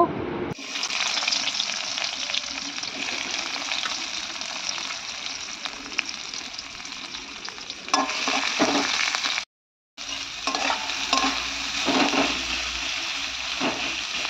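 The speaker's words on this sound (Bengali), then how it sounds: "পেঁয়াজগুলো একটু বেশি করেই ভাজবো, কারণ যাতে একটু লাল লাল করে ভাজতে হয়।" Onions frying in hot oil with a whole-cumin and chili tempering in a Bengali home kitchen: a loud, continuous close-up sizzle fills the whole stretch, dropping out for a moment near the end before resuming, with no talking.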